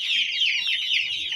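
A champion-breed rooster clucks and calls in a steady, close, fairly loud run of chattering notes, with no talk over it.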